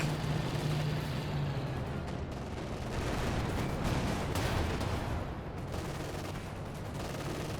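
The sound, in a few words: PIAT anti-tank shots firing in the video game Company of Heroes 2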